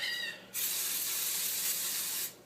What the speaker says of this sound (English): Maybe spray it a little more in case it wore off.